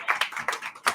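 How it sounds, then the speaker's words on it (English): A few close, sharp hand claps ring out at an e-commerce event, spaced irregularly in quick bursts rather than a full crowd roar. "a nice big round of applause for the catering team"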